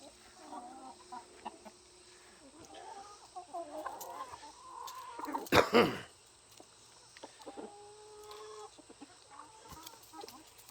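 Outdoor turkey calls and clucks come from the birds at moderate distance, with one louder burst midway and scattered rustling around them.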